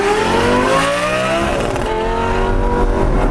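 Lamborghini Gallardo Superleggera V10 revving hard and loud up close, pitch climbing through the gears with crackles between shifts, no talking.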